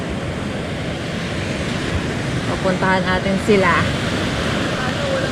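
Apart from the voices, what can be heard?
waves crashing on shore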